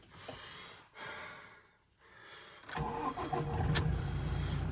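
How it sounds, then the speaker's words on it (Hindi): A Toyota Innova starts on the first try: brief cranking, then the engine catches and settles into a steady idle that grows louder near the end, with no talking. "चलो जी करते हैं गाड़ी को स्टार्ट।"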